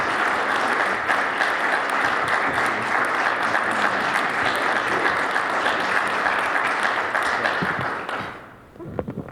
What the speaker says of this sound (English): could everybody give Chris a round of applause?